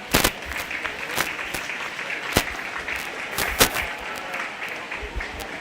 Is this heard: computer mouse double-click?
no